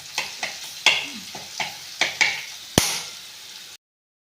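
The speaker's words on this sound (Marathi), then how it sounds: "आता हे आपण वाटून घेतलेली लसूणची पेस्ट ह्याच्यात टाकायची आहे।" Garlic paste is stirred into hot oil with cumin: a series of sharp scraping strokes of a spoon against the pan over a soft frying sizzle, about a dozen strokes, ending abruptly.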